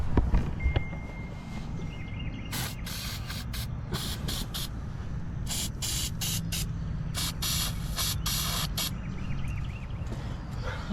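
PB Blaster penetrating oil hisses from a spray can onto stuck bolts on a DIY boat build, in a series of short, close bursts of varying length over a steady background hum.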